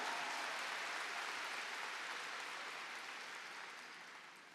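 Broad, steady applause from a convention audience at an Amway spring convention, a dense even wash of many hands clapping that holds for several seconds and thins slightly near the end.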